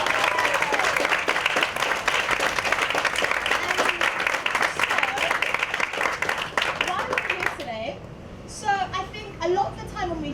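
Audience claps at an economics talk, a sustained round of dense applause for about seven seconds that stops abruptly, then a speaker's voice follows.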